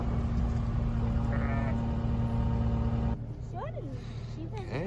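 A few sheep bleat on a farm pasture, short wavering calls heard faintly over a steady low hum, with a voice in the background.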